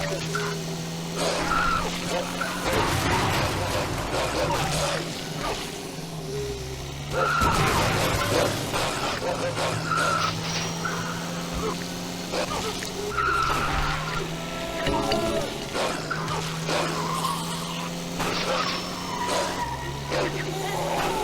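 Car skidding with the handbrake held in the Zombie Driver video game: continuous engine drone with repeated tyre squeals and skids rising and falling throughout, loud and close, while a person talks over it.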